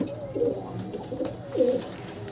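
Domestic pigeons coo softly several times as a group drinks water after feeding on a cold day, close by against a low background hum.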